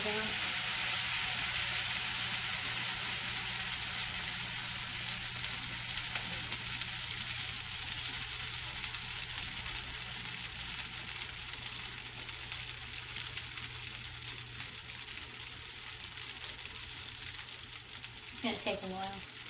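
French toast sizzles steadily in a hot pan, a constant bright hiss close by with occasional light scraping, fairly quiet throughout.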